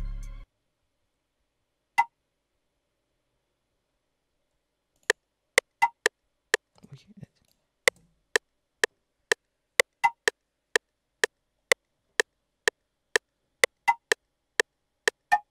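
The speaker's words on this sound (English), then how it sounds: "I also added this percussion right here to add more bounce to the beat" A dry, clicky percussion loop from a hip-hop beat made in FL Studio or Ableton: after a lone tick and a pause, sharp, quiet hits repeat in a steady, bouncy rhythm.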